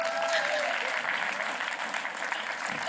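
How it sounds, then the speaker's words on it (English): A conference keynote audience applauds with dense, sustained clapping, loud and even throughout, with a brief voice audible at the start. "Can I have a round of applause for my mimers?"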